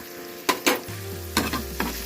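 Cumin seeds hit hot oil for a capsicum paneer curry, crackling in a steady close sizzle with a few sharp bursts of spatter and a low continuous frying hum underneath.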